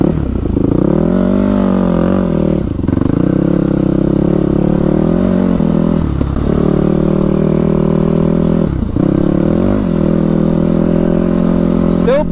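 A Yamaha YFZ450 quad engine runs hard during break-in, a loud, steady motor drone with a few brief dips and rises in pitch as the throttle changes.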